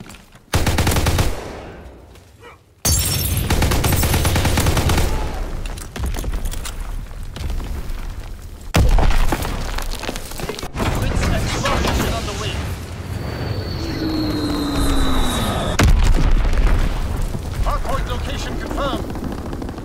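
Heavy explosions and bursts of machine-gun fire from a bombing run in a WWII shooter game, loud booms hitting in clusters across a long, dense stretch of battle noise with radio-style voice callouts.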